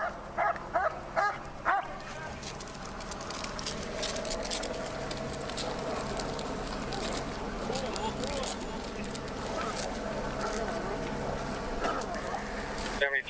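Police K-9 dog barking in a tense armed standoff, several loud barks at the start followed by continuous commotion, radio chatter and shouting voices.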